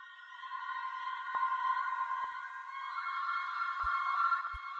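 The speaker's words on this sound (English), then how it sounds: "You got this atmospheric sound as well, with like, as you can see, like I've high passed it, some reverb" Processed atmospheric sound sample, high-passed and drenched in reverb, holds a steady airy tonal drone with a few faint sharp clicks and low thumps dropping in near the end.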